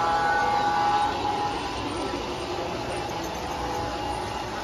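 A garden-scale model wine train rolls past outdoors at the Chicago Botanic Garden railway, a steady rumbling hiss that is louder at first and then eases slightly.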